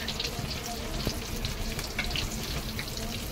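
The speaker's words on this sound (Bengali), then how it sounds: "কাকিমা দেখো হেলেঞ্চা শাকের চপ ভাজছে, আর হলো চিকেন স্যাটে ভাজছে।" Oil sizzles steadily as helencha greens chops and chicken saute fry at a station food stall in Kalyani, a busy crackling hiss with light clinks, fairly close.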